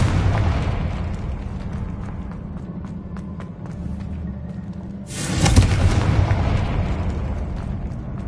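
A Confringo spell fired in Hogwarts Legacy lands as a sudden loud fiery burst partway through, rising sharply out of a steady rumbling game ambience and trailing off into a sustained crackling roar.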